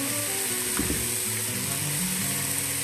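Rice fries in a hot pan with a steady, close sizzle that holds level throughout, broken by a brief stir or clatter near the middle; no talking.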